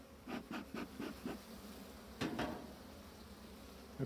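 Honeybees in an overwintering hive give off a low, steady hum, with a run of short, louder buzzing bursts early on and two more a little later against faint background noise.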